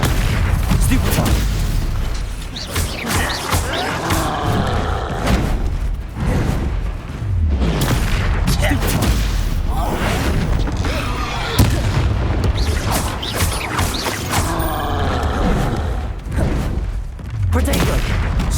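Stupefy spell combat in Hogwarts Legacy, with loud repeated magical blasts and booming impacts in quick succession over a dense, busy battle din throughout.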